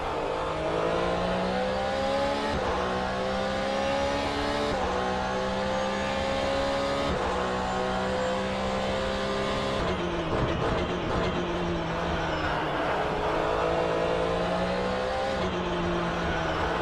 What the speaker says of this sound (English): Let's ride with James Bowders in the number 92 Porsche 911 GT3 1992.